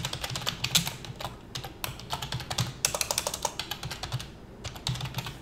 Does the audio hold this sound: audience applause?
no